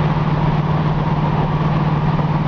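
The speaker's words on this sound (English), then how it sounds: "you can just hear the engine just purring" A 1972 Chevrolet Camaro engine hums steadily and smoothly with a strong low drone, running evenly at cruising speed of about 60 with no talking.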